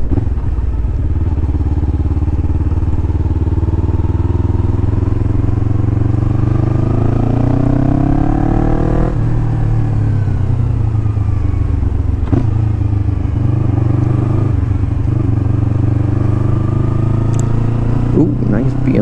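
A Yamaha R3 motorcycle engine runs throughout, loud and close, rising and falling in pitch as it revs and shifts, with wind rumble and a few clunks.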